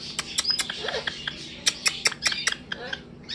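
A pet bird gives a run of short, sharp squawks and chirps in quick irregular bursts, close and moderately loud, with no talking in between.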